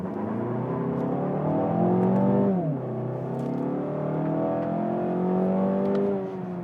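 A 2022 Mazda 6 Skyactiv G194 Homura accelerates hard, its engine note climbing steadily, dropping at one upshift, then rising again. The engine is heard from inside the car, smooth and continuous, with no talk.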